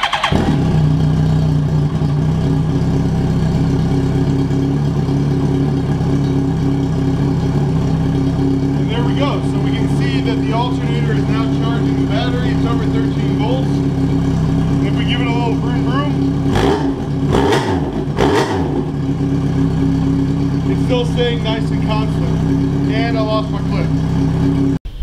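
A 2003 Yamaha R1 sport bike, fitted with a new stator and regulator rectifier, idles steadily throughout with a low, constant engine drone, with a few brief louder blips near the middle.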